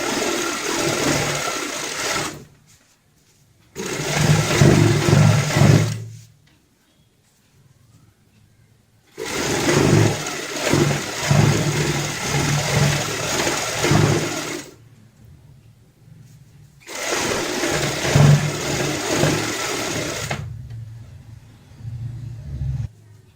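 A sewing machine stitches a round cushion cover in loud close bursts of rapid whirring, four runs of a few seconds each separated by short silent pauses.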